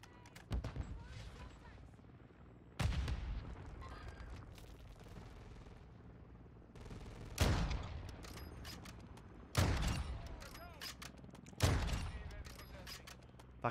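Rifle fire from SPX and Victus sniper rifles in a shooter video game: four or five sharp, booming single shots spaced a couple of seconds apart, each trailing off in an echoing tail, with game noise between them.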